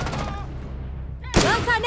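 Gunfire in the tactical shooter Rainbow Six Siege: a sharp, loud single shot cracks out near the end after a quieter stretch, with game audio and a faint voice around it.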